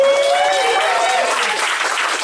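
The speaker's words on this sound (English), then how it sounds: "Let's give him a round of applause." A comedy club audience at a talent showcase breaks into loud, dense applause, with cheering and a voice rising through the clapping, steady throughout.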